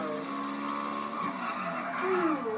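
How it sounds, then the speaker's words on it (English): A small quad bike driven in GTA Online, a steady engine drone with a brief tyre squeal near the end, moderately loud and continuous, with no talk. "the last time I drove this little quad bike from my clubhouse"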